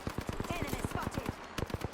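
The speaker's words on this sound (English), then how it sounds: "Shot fired, and they're hitting me." Rapid automatic gunfire in a video game, a fast, even stream of roughly twenty sharp shots in two seconds, fairly quiet and continuous.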